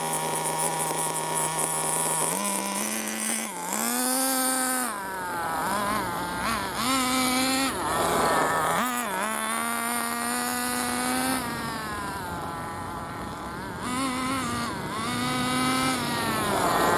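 Close-up, an FTX Carnage nitro RC truggy's small engine runs at quarter throttle, a loud buzzy whine that rises and falls repeatedly in revs between steadier stretches.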